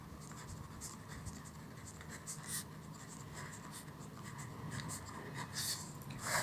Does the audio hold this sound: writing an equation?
yes